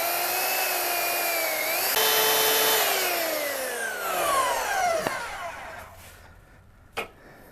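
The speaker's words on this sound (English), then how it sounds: "So we're going to cut this right now. It'll take a minute or so." A power saw works through steel tubing for a 1932 Ford Five Window Coupe frame, giving a loud, sustained whine whose pitch slowly drops as the motor slows. It ends with a couple of sharp knocks.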